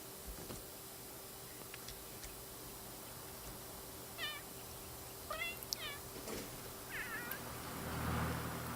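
Cats meowing outdoors in The Sims 3 video game: several short, quiet meows scattered across a soft steady background hum, with a few faint ticks and a low thump near the end.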